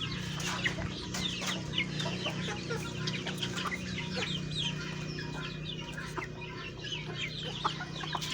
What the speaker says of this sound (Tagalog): Mga Jepoy line native parawakan.